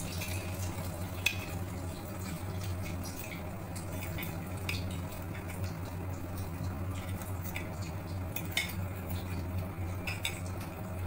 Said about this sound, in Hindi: अब अंडे को मैं डिप करके कबाब को मैं एक करके फ्राई कर लूँगी